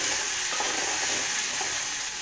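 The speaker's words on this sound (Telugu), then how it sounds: "ఇప్పుడు పల్లీలు వేయించి పెట్టుకున్నటువంటి పల్లీలు వేస్తున్నాను చూడండి" Roasted peanuts tossed into a pan of upma frying on the stove, a continuous loud sizzle with light stirring scrapes throughout and a short clatter at the very end, no talk.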